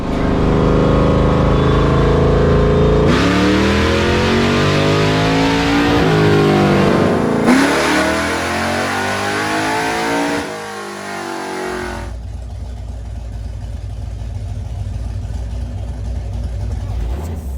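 A small-block Ford Mustang engine revs hard on a dyno, a loud sustained roar rising in pitch through the pull, then cutting back to a lower, rougher idle for the final stretch.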